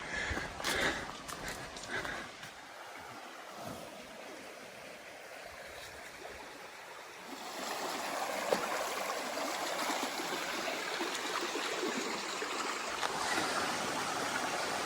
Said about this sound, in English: Well, made it safely across the creek.